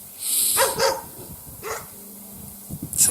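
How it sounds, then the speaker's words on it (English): A dog barks loudly outdoors, three sharp barks spaced about a second apart with a fourth starting at the end, standing clear of a quiet background. "What a loud dog."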